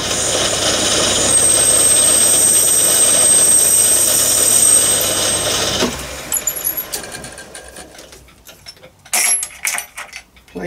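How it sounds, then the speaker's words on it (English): A drill bores a hole about half an inch deep for a small Gauge 1 live steam garden railway carriage, sounding as a loud, steady machining drone with a faint high whine that stops abruptly, leaving scattered clicks and handling noises. "Drill this about ½ an inch."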